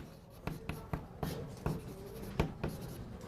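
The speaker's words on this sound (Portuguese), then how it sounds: "eu vou escrever assim" Chalk or marker strokes on a lecture-hall board during a calculus class, a steady run of scratchy taps and scrapes at close range with no talking.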